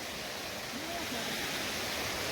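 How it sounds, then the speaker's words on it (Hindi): A forest stream in the Himalayan woods rushes downhill with a steady, broad hiss of flowing water, constant and fairly close, with no pauses. "ऊपर से जंगल से पानी आ रहा है और नीचे को जा रहा है"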